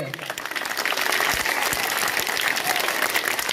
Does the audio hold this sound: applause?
yes